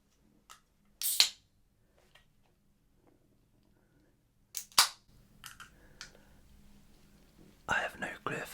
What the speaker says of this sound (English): But we'll open up the can.